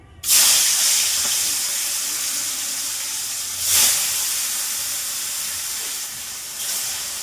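Fish sizzling loudly in a hot pan in a home kitchen, a steady bright hiss with a couple of brief surges as pieces shift, no voices.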